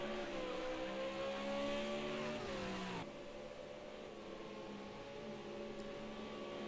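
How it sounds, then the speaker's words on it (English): V8 Supercars racing in a video game, engines droning loud and steady, with a pitch drop as one car lifts off and then steady high revs for several seconds with no talk. "Ben's a little bit slow coming out of turn number 11, which is going to allow Dylan to close up that gap ever so slightly"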